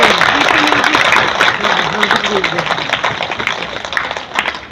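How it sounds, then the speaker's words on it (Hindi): Steady clapping from an audience at an International Women's Day celebration runs throughout, a dense wash of applause with a voice speaking over it. "जोरदार तालियां हो जाए।"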